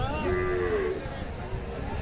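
At a crowded cattle market, a young calf gives one drawn-out moo close by, while traders and buyers talk in the background.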